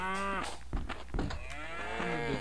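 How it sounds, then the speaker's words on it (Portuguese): Cattle in the Survivalcraft video game moo in a few drawn-out, tonal calls, fairly faint over a steady low background hum, with no talking. "Esse boi tá aí"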